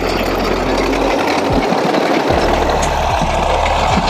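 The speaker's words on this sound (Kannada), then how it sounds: "ಸೊ ಇಲ್ಲಿ ನೋಡಿ ಕೇರಳ ಟ್ರ್ಯಾಕ್ಟರ್ ಈ ಥರ ಇರುತ್ತೆ" A tractor engine running on a tea plantation in Kerala, a loud, close, steady diesel chug with a low throbbing hum that briefly drops away and returns, plus faint rattling vibration and no speech.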